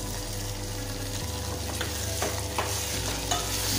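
Tomatoes roasting in hot oil in a pan, a continuous close sizzle with a low hum underneath and a few brighter stirring scrapes toward the end.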